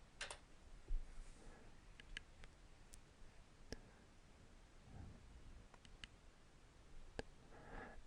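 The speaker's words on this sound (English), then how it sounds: "I go to any place in Google Chrome and type in" Faint keystrokes from typing on a computer keyboard, a scattered series of light clicks and taps spread across a quiet room with no talking.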